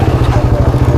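A motorcycle engine runs with a steady, rapid low pulsing, close and loud, as one of three motorbikes sets off on a ride in Mayantoc, Tarlac.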